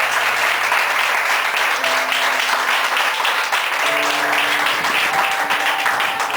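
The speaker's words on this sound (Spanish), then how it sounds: "Si usted cree esa palabra, aplauda al Señor con toda su fuerza." A church congregation applauds at a Spanish-language prophetic service, a dense, steady wash of clapping filling the room for the whole stretch, with faint sustained organ or keyboard tones underneath.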